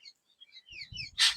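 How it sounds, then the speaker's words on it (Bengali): Birds in rural village countryside give quick high chirps and short twittering calls, light and fairly close, followed by a brief burst of rustling noise at the end. "পাখিগুলা ডাকতেছে, কি সুন্দর লাগে"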